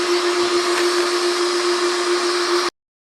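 Stand mixer beating cake batter, a loud, steady, even motor whir with a constant hum that runs alone for under three seconds and then cuts off abruptly.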